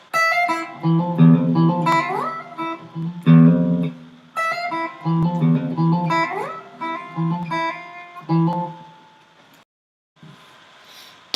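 A distorted electric guitar plays a chugging, chord-based riff with rhythmic bursts, loud and up front, ending with a brief pause and a softer tail.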